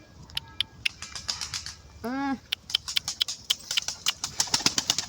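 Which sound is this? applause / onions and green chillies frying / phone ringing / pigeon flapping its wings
pigeon flapping its wings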